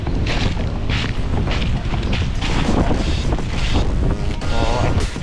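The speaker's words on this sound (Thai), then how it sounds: "ลมแรงมากเลย" Strong wind roars steadily over a boat on the sea, a loud continuous buffeting rush with water and wave noise underneath and no clear talk.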